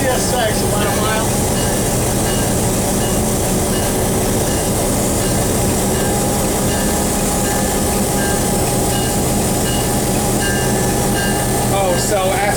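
Museum train rolling along its tracks at a railroad museum in Miami, Florida, with a constant loud rumbling roar and rattle heard from aboard, faint wheel squeals near the end and people talking over the noise.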